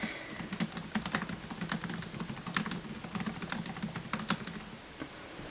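Fingers type a blog post title on a computer keyboard, a steady close patter of light key clicks with small pauses, heard alone at a low level.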